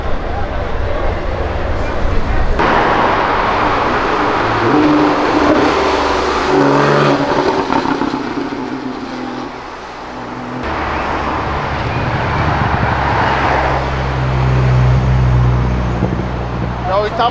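A BMW fitted with a 2JZ engine revs and accelerates along a city avenue, its loud, throaty exhaust rising and falling close by amid traffic noise, with people talking over it.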